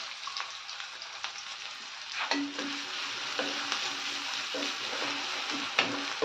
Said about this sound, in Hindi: अच्छी तरह से ब्राउन होने तक भून लेते हैं प्याजों को।